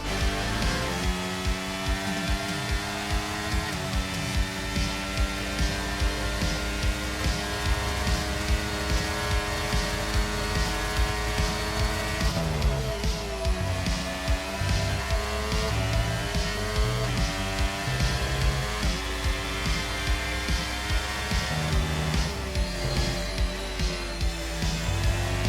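An F1 car laps Imola at full speed in the F1 23 video game. The high engine whine climbs through the gears, drops under braking and climbs again in a steady, continuous drone with no voices.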